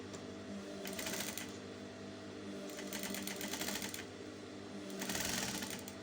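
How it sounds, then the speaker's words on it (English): Sewing machine top stitching a halterneck dress, with quiet bursts of rapid needle chatter repeating in short runs separated by softer motor hum, fairly faint and close. "Then I'm going to top stitch."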